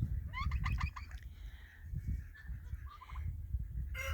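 Turkeys gobble in a rapid rattling call, followed by softer clucks and calls over a low rumbling background, moderately close.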